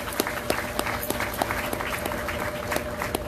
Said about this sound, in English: I think we should give him a round of applause again.